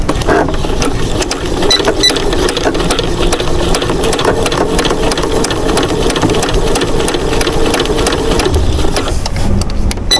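A sewing machine stitches quilt fabric in a steady, continuous mechanical hum and rapid needle clatter, close and loud, running almost without pause for about ten seconds.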